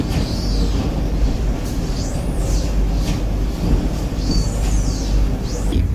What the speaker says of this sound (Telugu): 5 నిమిషాల హాల్ట్ తర్వాత మన ట్రైన్ తిరిగి బయలుదేరింది